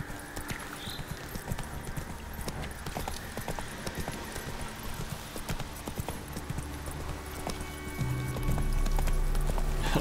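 Roach the horse galloping in The Witcher 3, a steady rapid clip-clop of hooves running continuously and close, growing louder near the end.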